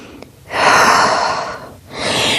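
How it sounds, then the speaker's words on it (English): A deep breath drawn during a Pilates child's pose stretch, sitting back on the heels with arms extended: a long, strong airy inhale lasting about a second, a brief pause, then a second breath starting, close and alone. "Sit back on your heels, extend your arms, and breathe. One more breath."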